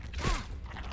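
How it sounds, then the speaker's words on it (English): A big door creaks open in the survival video game Grounded, a short mechanical groan with a rising whine at moderate volume, over a low rumble of ambient game noise. "I've opened a big door."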